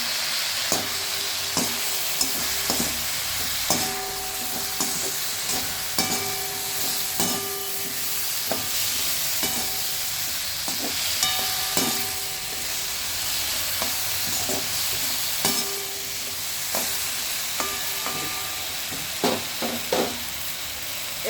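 Eggplant and mixed vegetables frying with turmeric, a steady close sizzle broken by repeated scraping and stirring clicks of a spatula against the pan, continuing without talk.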